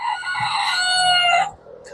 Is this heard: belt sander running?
no